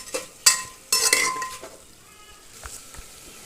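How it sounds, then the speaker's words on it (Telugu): Onions and curry leaves fry in a pan for a potato and peas kurma. A soft sizzle runs under a few sharp clinks and scrapes of a stirring spoon against the metal. "ఉల్లగడ్డలు వేసుకొని కొద్దిసేపు వేయించుకున్నాము"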